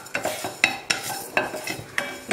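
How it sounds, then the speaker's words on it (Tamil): Rice dry-roasting in a pan for curry leaf powder, stirred with a utensil in a steady series of sharp scraping strokes roughly every quarter second, loud and close with a faint crackle beneath, no voices. "இப்போ வந்து இந்த அரிசி போட்டுக்கலாம். அரிசி வந்து நல்லா பொரியணும்"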